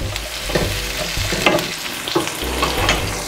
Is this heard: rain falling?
no